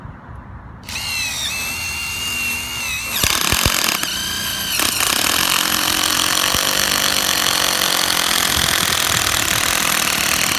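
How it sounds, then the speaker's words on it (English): Impact driver driving a lag screw into the ground to set a chain tie-down anchor, a loud continuous rattling hammer-whir that starts after a brief pause and holds steady to the end, with no talking. "lag screws and an impact driver"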